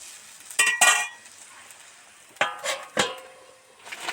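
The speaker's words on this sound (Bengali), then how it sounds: "ঝোলে ফুট এসে গেছে, এবার ভাজা বড়িটা এর মধ্যে দিয়ে দেব। দিয়ে নেড়ে চেড়ে" Fried lentil dumplings (bori) are stirred into a boiling rohu fish curry with papaya, giving a few short scraping clinks and sizzling bursts separated by quieter bubbling, close by with no talking.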